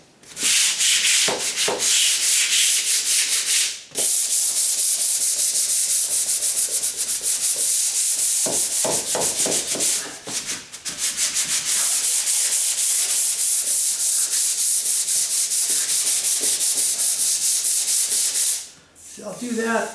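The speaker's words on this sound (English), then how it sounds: "And then I'll go back and lightly sand it with 150 grit." Sandpaper rubs back and forth along a wooden door jamb during paint prep with 150 grit, a loud, steady abrasive scratching in long continuous strokes broken by a few brief pauses.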